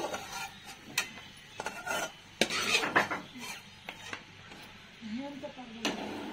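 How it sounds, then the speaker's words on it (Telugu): Semiya vermicelli stirred in a pan, with scattered scraping and clinking of a spoon against metal in irregular strokes, fairly faint. "అదే బాండీలో సేమియాలు వేసుకొని బాగా కలుపుకోవాలి"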